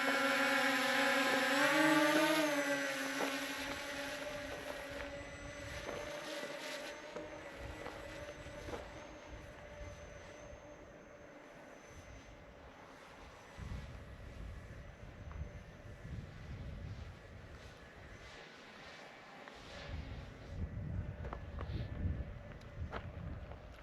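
A Ruko F11PRO 2 drone flies outdoors with a continuous whirring rotor drone that swells loudest early, then holds steadier and farther off under rushing wind noise, with no talking.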